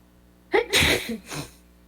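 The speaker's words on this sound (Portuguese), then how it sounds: "Ai, eu vou espirrar." A single loud, close sneeze with a sharp breathy burst, followed by a quieter exhale.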